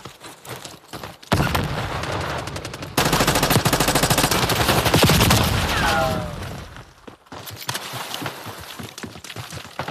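Call of Duty: Black Ops 6 gunfire, with sustained automatic bursts and rapid shots rattling loudly at close range, broken by short gaps and a few sharp single cracks near the end.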